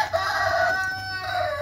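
Silkie hens squabbling inside a cage, a burst of loud, close clucking and crowing-like squawks with sustained harmonic calls that fill the short moment with no talk.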